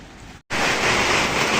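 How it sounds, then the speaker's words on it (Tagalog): Heavy rain roars as a dense, steady wash, broken by a brief silent gap before it comes back louder and continues alone. "Lakas ng ulan dun sa gawi dun."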